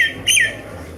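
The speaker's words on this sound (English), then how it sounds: "at daytime we hear chirping sound of mynas" A myna gives one brief, loud squawking chirp in daytime by a little river with tall grass.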